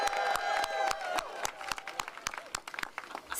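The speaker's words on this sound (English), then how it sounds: "So give yourselves a round of applause." Crowd applause at a Transit for All rally in Pennsylvania, a sparse outdoor clapping with distinct individual claps ringing out sharply, loosening and thinning toward the end.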